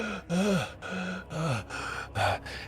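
A voice imitates the ragged panting of a burned dwarf: five short, strained breathy gasps in an uneven rhythm, close and alone.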